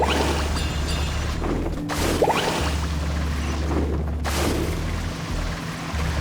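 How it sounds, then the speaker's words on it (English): Rocks fall in a collapsing lava cave in Genshin Impact, a deep continuous rumble of heavy crashes and booms over a steady low drone. "More falling rocks"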